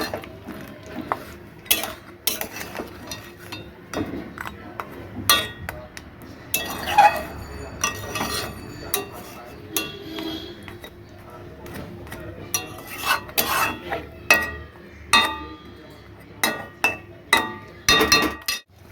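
A utensil stirs prawn malai curry in a pan, making repeated sharp metallic clinks and scrapes in an irregular rhythm, fairly close and clear, with no talk over it.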